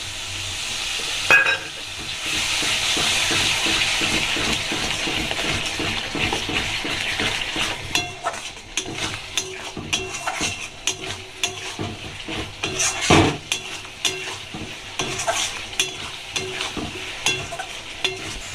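Tomato paste hits hot oil in a pan for a Bengali bhola fish curry, a loud steady sizzle rising at once and settling into crackling frying, broken by scraping stirs and spatula clinks, with no one talking.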